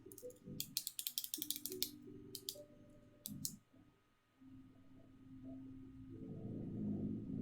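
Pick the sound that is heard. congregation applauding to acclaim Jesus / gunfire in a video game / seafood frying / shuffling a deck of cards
shuffling a deck of cards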